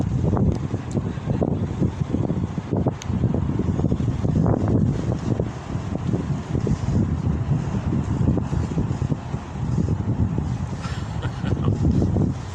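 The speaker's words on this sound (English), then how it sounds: "Yeah, it's still kind of breezy." Breezy wind buffets the microphone outdoors in a continuous low rumble, pulsing in gusts that rise and fall, close and fairly loud with no clear talk over it.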